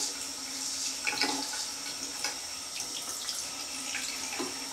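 A straight razor rinsed under a running bathroom tap, with a steady stream of water splashing into a sink and intermittent louder splashes and clinks as the blade moves through the flow, close and moderately loud.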